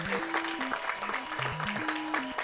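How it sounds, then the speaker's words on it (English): Audience applause at a live speedrun event for the Japanese Super Mario Bros. 2, a steady patter of clapping from the crowd over stepped chiptune game music. "you all should clap for that now"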